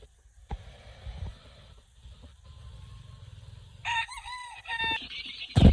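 Chickens at a poultry farm with chicks, a rooster crowing loudly and nearby clucking over a low background rumble, with louder calls toward the end.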